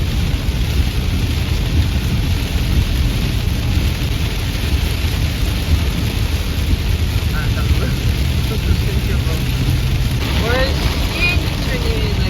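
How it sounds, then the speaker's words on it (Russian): Heavy rain drums steadily on a car driving on the road from Moscow to Kotelnich, a dense constant wash of rain and road noise with a low rumble, and faint chirping sounds near the end. "У нас пошел сильный дождь."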